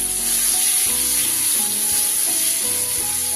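Chopped tomato sizzling in oily fish curry masala for bhola fish, a dense, steady frying hiss heard up close over faint low tonal background music.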